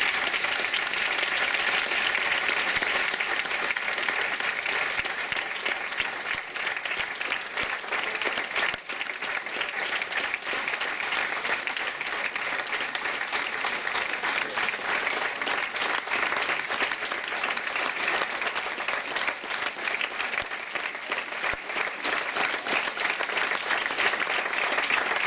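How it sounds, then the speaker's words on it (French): Warm, dense applause from an audience at a graduation ceremony fills the hall, continuous and loud throughout. "Je vous propose d'applaudir chaleureusement Soumira Delbove."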